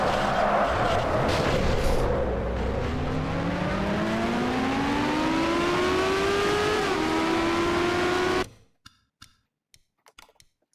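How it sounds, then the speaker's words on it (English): An Indy car engine heard onboard in a racing video game at Indianapolis, a loud sustained whine rising in pitch through the gears before cutting off abruptly, leaving a few faint clicks. "On board Aiden Shepard's car."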